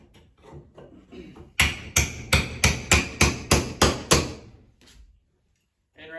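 Close hammer strikes driving fasteners while hanging sheetrock drywall, a quick run of about ten sharp evenly spaced blows after lighter taps, with brief silence near the end.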